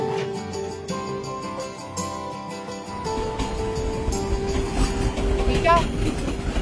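A train runs on rails, a rumbling roll with rhythmic clatter building over several seconds alongside musical tones, growing louder and nearer toward the end.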